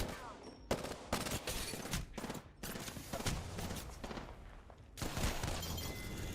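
Charge rifle gunfire in the video game Apex Legends, heavy shots and bursts packed one after another across the whole stretch, loud and dense, with other combat noise blended in.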